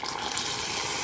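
Water poured while cooking a tajine at home, a short, steady splashing gush of liquid without talk.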